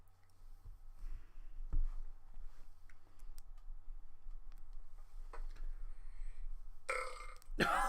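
A man who has just drunk Irn-Bru gives one loud, close belch near the end, after several seconds of quiet room tone with faint clicks.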